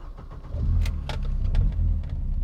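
A 1980s BMW 320is E30 with the S14 four-cylinder engine idles nearby, a steady low throaty rumble with faint mechanical ticks and no voices.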